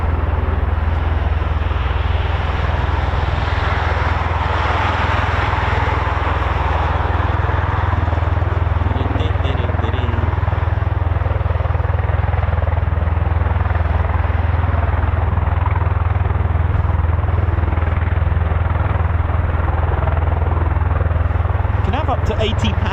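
A KC-135 Stratotanker of Ohio's 121st Air Refueling Wing, powered by four CFM International F108 engines, giving off a steady, loud roar that holds for the whole stretch while voices talk beneath it.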